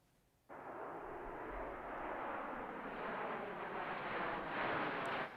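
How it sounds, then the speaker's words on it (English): Snowbirds aerobatic team aircraft flying past in formation: a broad engine roar starts abruptly and holds loud and steady for several seconds, swelling slightly near the end, with no voices. "Look at that formation flying."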